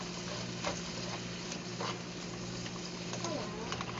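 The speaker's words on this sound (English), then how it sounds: "the asparagus. We got the butter pretty much all melted. It's kind of just sauteing in that." Asparagus sautés in melted butter in a pan during a steak-night cook, a faint steady sizzle with occasional small pops sitting under a low background hum.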